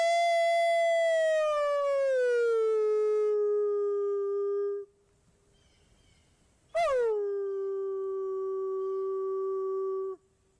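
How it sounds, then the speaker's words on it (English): A drawn-out wolf howl played back from a video, with a long falling tone that trails off, a brief pause, then a second howl with a sharp rising onset that slides down and holds before ending. "maybe get a little weird wolf howl"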